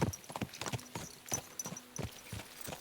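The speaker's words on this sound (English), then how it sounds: "Let's really spur these horses on, eh?" Horse hooves clip-clop in a steady walking rhythm in the medieval video game Kingdom Come: Deliverance II, about ten distinct soft hoofbeats, fairly quiet and unaccompanied by talk.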